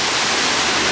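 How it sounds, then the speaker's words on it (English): A waterfall beneath the Tree of Life at Disney's Animal Kingdom, heard from under the falls, pours in a dense, steady, close rush of broadband water noise with no talking. "now walk under a waterfall"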